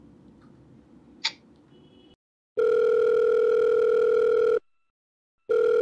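A telephone call comes through as a steady electronic ringback tone, two long loud bursts separated by a short silence, preceded by a quieter click and brief beep over faint background noise.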